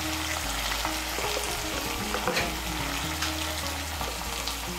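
A spice paste with chili powder, a little water and salt sizzles steadily in a pan, with continuous frying hiss and occasional stirring scrapes, heard close and alone.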